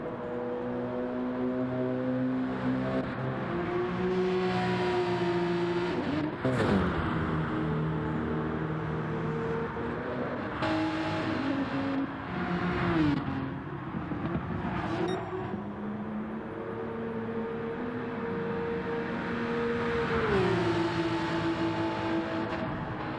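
GT3 race cars lapping Monza in a racing video game, several engines droning and shifting pitch in layered tones, steady and fairly loud throughout, with gear changes and cars passing.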